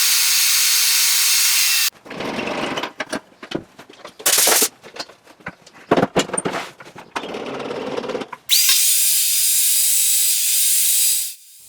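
Saw cutting pallet wood boards of cedar and pine to width, several loud bursts of cutting with short pauses between them, a steady motor whine before and after.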